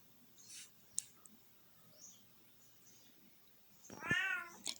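Pet house cats meowing in a quiet indoor room, with a few faint, scattered calls and then one louder, drawn-out meow close by near the end.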